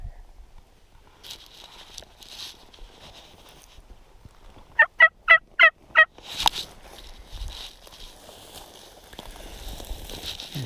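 A wild turkey gobbling during a spring turkey hunt outdoors, one loud, fast rattling burst of five to six clipped notes standing out clearly over quiet rustling and footsteps in the field.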